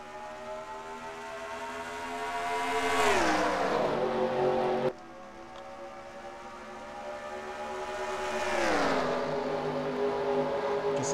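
Race cars in NASCAR Racing 2003 at the Folds of Honor QuikTrip 500, a loud field of engines swelling as the pack nears and then sliding lower in pitch as it roars past, happening twice with no voices.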